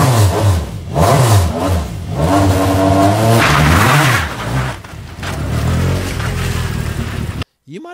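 A petrol car engine revving in repeated bursts beside an electric car, loud and close, with rising and falling pitch sweeps across several seconds before cutting off abruptly.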